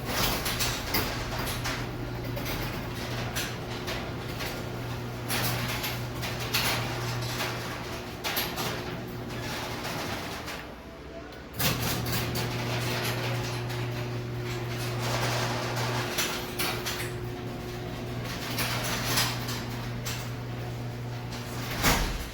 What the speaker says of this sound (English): So let's go ahead and give you guys a picture of how loud this door is when you're opening it up.